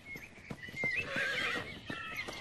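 A horse whinnies loudly in a rural film scene, one drawn-out neigh rising over nearby hoof clip-clops and rustling, with no speech.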